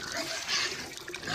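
Water splashes and gurgles briefly as it is poured into a pig feeding trough, close and moderately loud, with no talking.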